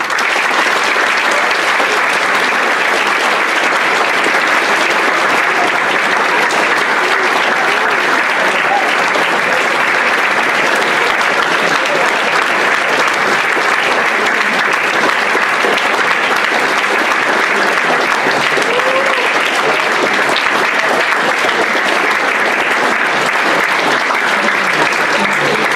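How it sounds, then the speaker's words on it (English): Loud, sustained applause from a large audience welcoming Nobel laureate Professor Jerome Friedman, a dense, even roar of many hands clapping that continues without a break. "let us give them a great hand."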